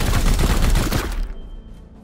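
A dense burst of rapid gunfire from the tactical game Warhammer 40,000: Chaos Gate - Daemonhunters. It comes loud and close, then cuts off abruptly after about a second, leaving a short, fading tail.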